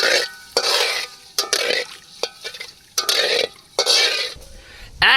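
Bay leaf dropped into hot oil in a pan while cooking a Bengali papaya curry, giving bursts of sizzling and stirring that come and go in several loud surges with short quiet gaps, close up and without talk.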